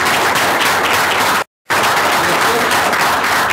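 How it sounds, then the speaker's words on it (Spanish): A crowd at a tourism colloquium applauds loudly and steadily, with a brief cut to silence partway through before the clapping resumes. "Les pido un fuerte aplauso para nuestro director"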